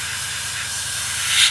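Light coat of paint hissing from a spray can or airbrush onto a 1/32 scale Wingnut Wings RE.8 model kit, a steady close hiss that swells briefly near the end.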